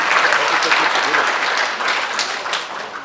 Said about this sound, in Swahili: Tuwapigie makofi wote kwa pamoja